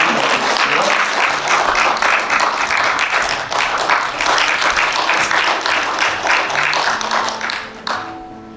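Audience members at a seniors' talk show clap loudly to welcome two guests onto the stage, a brisk, close applause with distinct individual claps that holds steady before cutting off abruptly near the end.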